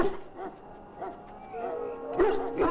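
Mabari war hound in the video game Dragon Age: Origins giving a few short barks and whimpering yips, spaced apart and moderately close, with faint speech-like sounds around them.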